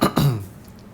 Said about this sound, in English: Then, clearing his throat,